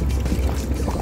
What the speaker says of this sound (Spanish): y sigue ingresando agua hasta que se llenan las dos cañerías